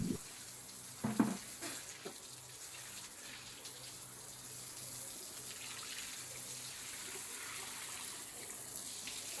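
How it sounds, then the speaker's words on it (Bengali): Water splashes and pours softly for a few seconds, then settles into a steady low trickling hiss, close by with no talking. "খুব সাবধানতার সাথে পানি দেওয়া হয়"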